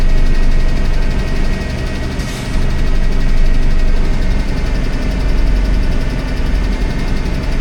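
An old vehicle, back on the road after nearly fifteen years, runs at a high idle: a loud, steady engine drone with a slight dip partway through, close by and with no voices.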